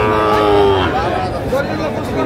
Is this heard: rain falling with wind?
no